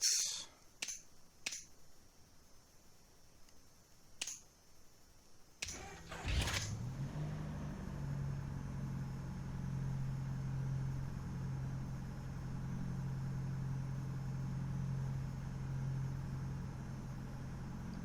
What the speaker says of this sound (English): There we go, engine started.